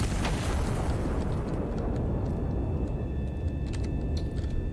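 An artillery shell explodes in the game Iron Nest: a loud, heavy rumbling blast rolls on for several seconds and slowly fades, with faint crackles toward the end and no talking.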